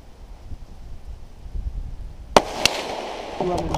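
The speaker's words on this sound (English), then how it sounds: "One more shot, just for fun." Two sharp rifle shots from a Tikka T1X chambered in .17 HMR, fired outdoors in cold, windy conditions, each a crisp crack in close succession, followed by faint handling noise and wind.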